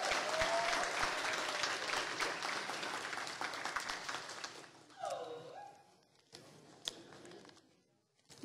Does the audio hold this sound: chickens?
no